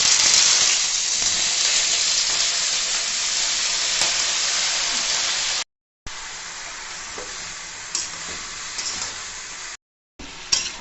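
Vegetables hit a hot pan after a tempering of whole spices and green chilli, giving a loud, steady sizzle and hiss that runs throughout, briefly cutting out twice, with occasional stirring clatter.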